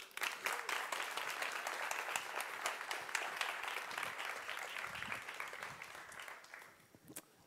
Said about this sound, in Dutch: Mag ik alsjeblieft een warm applaus voor meneer Marcel Levy